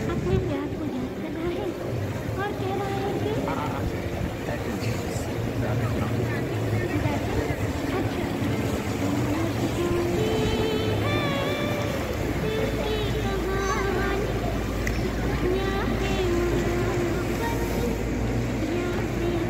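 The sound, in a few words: water bus and water taxi boats passing in Venice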